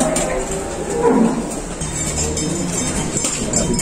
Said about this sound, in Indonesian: Ini sapi Jawa betina.